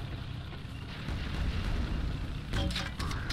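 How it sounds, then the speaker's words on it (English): Quake II game explosions rumble in low bursts, one swelling blast followed by a sharper crackling boom near the end, moderately loud with no speech over them. "Well, I've got a lot of explosions too."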